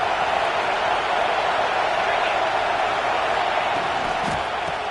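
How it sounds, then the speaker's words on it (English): A home stadium crowd at a Michigan versus Iowa football game roars as one steady, loud wall of cheering and noise that holds without a break. "how nice is it to have the home crowd going absolutely bananas"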